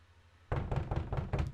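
Knocking on a door in a visual novel video game: five firm, evenly spaced knocks start after a short quiet pause and are heard clearly and close over a low background hum.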